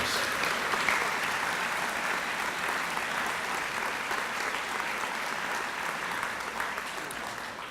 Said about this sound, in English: Please join me in offering another round of applause for all our nominees and award winners.